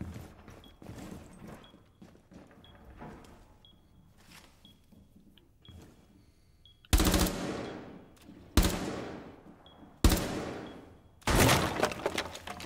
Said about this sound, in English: Tommy, can you shoot at this with your shotgun?